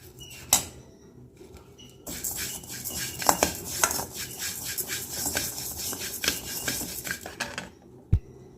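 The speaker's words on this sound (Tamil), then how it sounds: "இப்போ அவளை நல்லா வறுத்துக்கிடுவோம்" Flattened rice (aval) is dry-roasted in a pan, stirred with a steady dry scraping rustle. Scattered clinks of the utensil against the metal pan come through close and fairly quiet.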